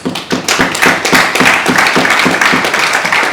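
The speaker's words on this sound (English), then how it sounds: "I can see the Lord Mayor clapping" A single person, the Lord Mayor, clapping at a public gathering, a steady rhythm of sharp close claps running about three seconds with some softer taps between, no speech.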